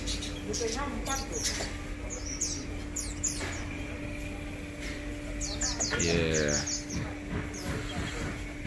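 Local birds, parakeets and lovebirds in an aviary give scattered chirps and twittering calls over a steady background hum, with a busier flurry of calls partway through.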